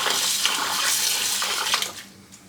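Steady rushing of warm running water, like a tap pouring into a bowl of beans being washed, broadband and continuous before tapering off slightly near the end.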